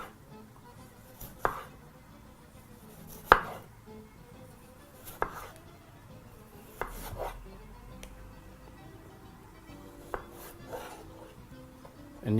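A knife slices thin pieces from peeled potatoes on a cutting board, producing a handful of sharp, separated chopping knocks spaced a second or two apart over a quiet kitchen background, with no talk.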